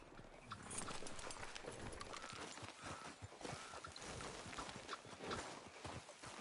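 Horse hooves clip-clop at a steady trot in Red Dead Redemption 2, a continuous rhythmic clatter close by with game ambience beneath and no talk.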